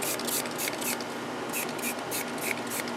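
Leak-detection dye is sprayed from a hand bottle onto an air-conditioning unit during a refrigerant leak test: a string of about eight quick, hissy trigger-spray bursts in a fairly even rhythm, close by.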